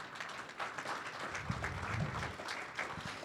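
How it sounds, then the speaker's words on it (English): Audience clapping during a conference closing session, a fairly loud, dense patter of many hands with a few sharper individual claps standing out, sustained throughout. "Big clap."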